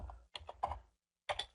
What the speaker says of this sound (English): I'm just typing in here